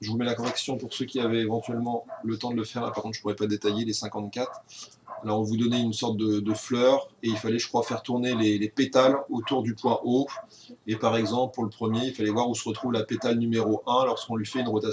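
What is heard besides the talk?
No distinct noise like a dog, phone or traffic.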